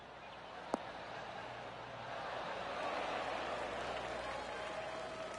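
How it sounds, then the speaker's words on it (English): Soft, scattered golf clap applause swells gently from a small crowd in the video game Golf 2K23, polite and restrained, after a sharp click near the start. "Oh, golf clap."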